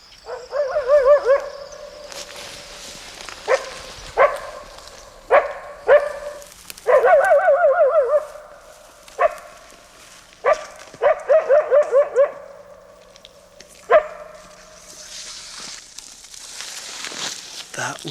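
A wolf barks aggressively in a series of sharp, harsh barks, some single and some in quick clusters, close and loud with quiet gaps between.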